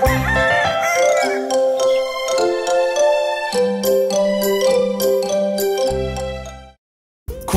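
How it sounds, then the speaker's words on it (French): A rooster crows loudly on a farm at sunrise in a children's song, its drawn-out cock-a-doodle-doo calls repeating in close succession before cutting to brief silence. "Écoute le cocorico bruyant du coq partout, comme le son d'une alarme."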